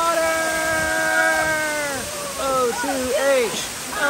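A waterfall at San Diego Zoo Safari Park gives a constant rushing hiss that fills the background, while someone talks loudly and close over it.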